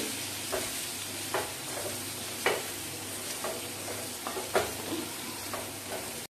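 Cumin and coriander powder being stirred in a hot frying pan, a steady low sizzle broken by a series of sharp spatula scrapes and taps at uneven intervals, close up and without talk.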